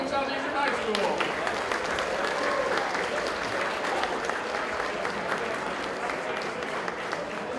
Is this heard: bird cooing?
no